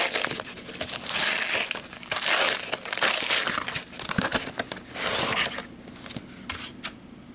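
Plastic packaging crinkles and tears by hand in repeated bursts of crackling rustle, close up and loud, with no one speaking.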